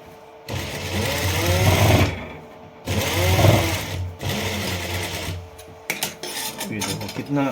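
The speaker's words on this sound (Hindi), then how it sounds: "अब ये जो फुट होता है इसके बिल्कुल बराबर रखना है और लगा देना है सिलाई में।" A sewing machine stitches a side pocket on a pair of trousers, running in loud sustained bursts of about one to two seconds with short pauses between, then a few quick clicks and brief bursts at the end.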